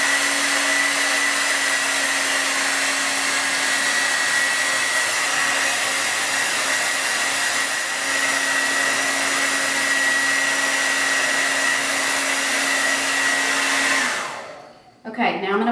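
A hair dryer blows steadily at close range during a salon-style blowout, a continuous loud whooshing roar with a steady motor whine that runs unbroken for about fourteen seconds before cutting off abruptly.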